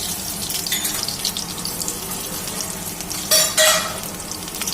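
Whole cumin and garlic fry in a little mustard oil in a home kitchen, giving a steady loud sizzle with a short sharper hiss burst near the end, and no voices.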